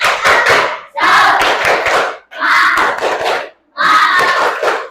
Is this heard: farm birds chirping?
no